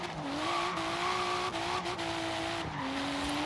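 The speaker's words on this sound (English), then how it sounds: "When I hit the brakes, it tends to lock up and slide a little bit." Toyota Supra in Forza Horizon 3 locking its brakes and sliding: a steady engine tone runs under a sustained tire squeal that wavers and drops in pitch over a few seconds, loud and close with no talking.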